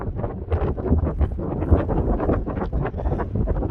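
Gusting wind buffets the microphone during an outdoor walk, a steady low rumbling roar with irregular swells and no speech.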